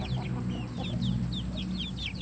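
An Asil chicken clucks in a farmyard among young chicks, with short repeated calls over a steady low hum and other fowl sounds in the background.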